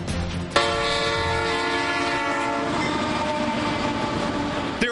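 Train horn blaring at a railroad crossing in Leavenworth, a loud sustained chord that starts abruptly and holds for several seconds over the rumble and clatter of passing rail cars.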